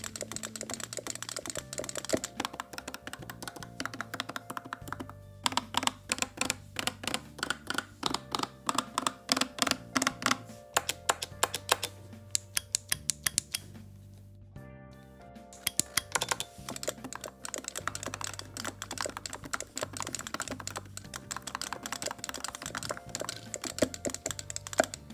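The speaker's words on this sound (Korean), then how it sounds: "한번 레버와 버튼 소음을 확인해 봅시다" An arcade stick with aluminum buttons is worked hard: a dense run of sharp, clicky presses and lever clacks in quick irregular bursts, close and fairly loud, with a couple of short pauses and no voices.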